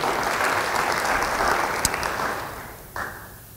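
A church congregation applauds during a sermon, a broad wash of clapping that holds steady and then fades, with a single sharper knock near the end.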